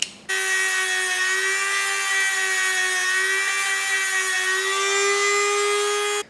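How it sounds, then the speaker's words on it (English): A steady, high-pitched whine of a Dremel sanding wheel grinding metal mounting points, loud and continuous for several seconds with a stable tone. "I'm going to try sanding wheel on a Dremel just to take out these little mounting points"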